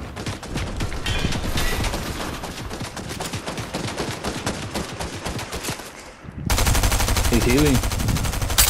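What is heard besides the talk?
gunfire in Fortnite video game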